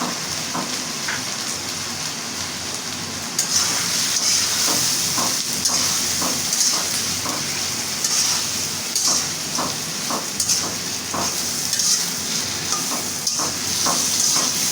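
A hilsa fish head fries with salt in a hot pan, giving a steady loud sizzle and hiss with repeated soft scraping knocks from stirring at an uneven rhythm.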